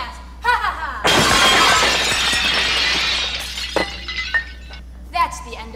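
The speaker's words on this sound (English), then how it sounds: "All I want to hear from you is the sound of shattering glass." Loud glass shattering in a stage play, a sudden crash with scattered pieces tinkling for about two seconds, framed by brief theatrical vocal outbursts before and after.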